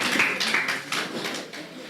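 Applause from an audience at a youth debate competition, honoring the debaters; a steady, dense wash of clapping that holds at moderate level throughout without voices.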